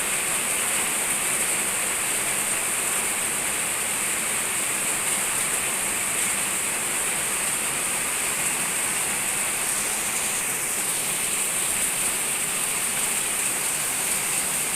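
Heavy rain pours steadily in front of a house, a loud, unbroken hiss with no pauses.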